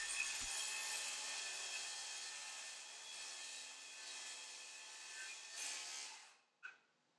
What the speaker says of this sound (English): I'll use my circular saw and a track that I made in shop to just break it down even further